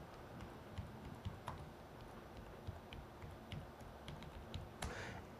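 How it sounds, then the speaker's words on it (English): Fingers tap on a computer keyboard in a soft, irregular patter of keystrokes with a few sharper clicks, faint and close over a steady background hum. "Now you can simply click and type."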